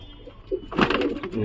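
Giribaz pigeons coo in a brief, soft, throaty burst close by, a single murmuring call rising near the end of a short moment, without speech.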